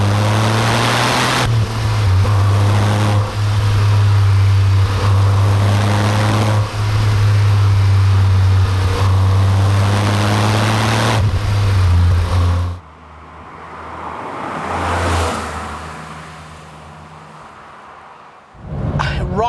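Porsche 993 911 Turbo with all-wheel drive and a six-speed gearbox, its engine droning loud and steady under acceleration on the road, then dropping away briefly before picking up again near the end.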